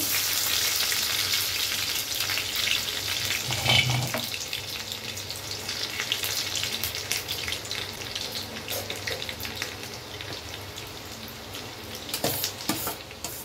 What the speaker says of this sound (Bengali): পাস্তাটা সেদ্ধ হয়ে গেছে, নামিয়ে দিলাম। দিচ্ছি একটু রসুন কুচি,